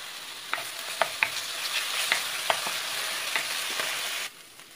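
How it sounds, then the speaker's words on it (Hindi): Ginger garlic paste fries with browned onions in a hot pan, a steady close sizzle broken by several sharp clinks and scrapes of a stirring spoon, with no talking until the sizzle suddenly drops away near the end. "जब प्याज इस तरह से भुन जाए तो हम इसमें अदरक लहसुन का पेस्ट डालकर भूनेंगे।"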